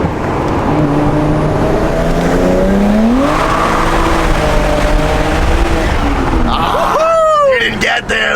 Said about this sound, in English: It sounds like a drift car.